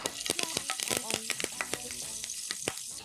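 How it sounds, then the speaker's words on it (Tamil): Cumin seeds and curry leaves fry in hot oil with dense, sharp crackles and pops over a bubbling sizzle, close and lively throughout. "இப்போ நல்லா நம்மளுடைய சீரகம் பொறிஞ்சதுக்கப்புறம் கருவேப்பிலை"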